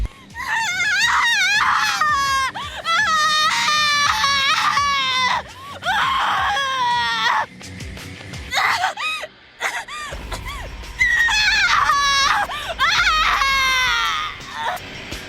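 Intense, high-pitched female screaming and anguished wails from the video game Death end re;Quest come in long loud bursts, broken by short pauses and a brief quieter stretch.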